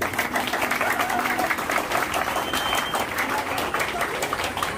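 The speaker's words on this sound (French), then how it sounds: "Applaudissez-vous s'il vous plaît." Audience at a Pan-Africanist address applauding steadily, a dense, even wash of clapping that holds at the same loudness from start to finish, with faint voices mixed in.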